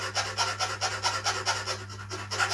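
A file working the cut end of a wire axle on a model aircraft tailwheel, smoothing it with quick, even rasping strokes that repeat steadily, close up, over a low constant hum and with no talking.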